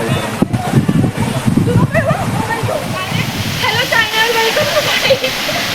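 A monsoon waterfall rushes steadily in the background while a group plays and splashes in the water, shouting and laughing. Loud, excited voices sit over the continuous roar of the falling water.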